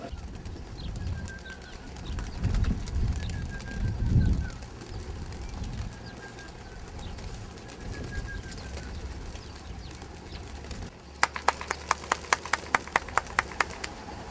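Soft racing pigeon coos drift over a low rumble of background noise in a shared loft, followed near the end by a series of sharp clicks or taps.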